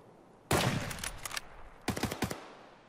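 Automatic gunfire from a firearm in Escape from Tarkov, loud and close: a long burst of rapid shots followed after a short pause by a second, shorter burst of several quick cracks.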